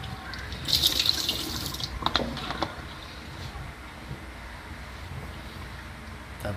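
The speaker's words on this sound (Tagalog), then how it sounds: "binanlawan muna natin yung bangos na binabad natin sa tubig na may asin para mawala ang alat" Tap water runs in a sink as brine-soaked milkfish is rinsed, a steady low splashing hiss with a couple of brighter bursts of water hitting the fish and basin, moderately close and continuous.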